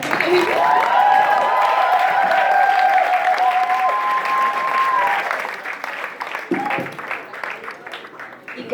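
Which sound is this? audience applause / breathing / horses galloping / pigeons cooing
audience applause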